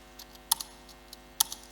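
A few sharp, sparse key clicks from a computer keyboard sound close by in a quiet room, two louder taps standing out among softer ones.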